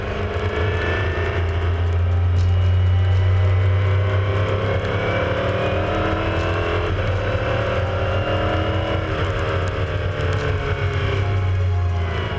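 Powerful race car accelerating on a circuit, heard from on board as a loud, sustained engine drone with rising tones and a heavy low rumble, no talking.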